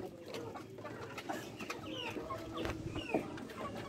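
Chickens clucking and calling around the opened door of their coop, several birds at close range with overlapping short calls and faint rustling throughout.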